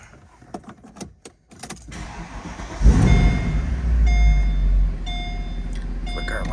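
A 2009 Mercedes-Benz SL63 AMG with the P30 Performance package fires up: a few light clicks and thumps, then a loud, deep engine roar that settles into a heavy, rumbling idle with steady mechanical whine, close by.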